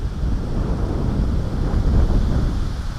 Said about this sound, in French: Il y a un peu de vent